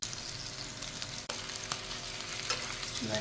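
Minced chicken seekh kebabs fry and sizzle steadily in a hot pan, a constant crackling hiss with brief clinks as they are turned over.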